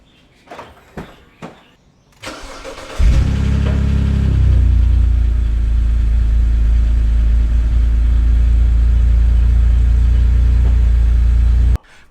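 A few clicks and a door thud, then a BMW F10 engine with a retuned exhaust header starts and settles into a deep, steady rumbling idle, loud and close.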